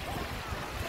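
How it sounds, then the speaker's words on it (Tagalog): Ocean waves wash over a sand castle on a beach, a steady, close rush of surf and water with wind buffeting the microphone throughout. "Sinisira siya sa alon."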